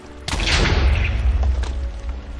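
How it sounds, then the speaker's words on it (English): A Minecraft TNT block explodes in one sudden loud boom, and a deep rumbling tail carries on for about two seconds. "Okay, a few more explosions."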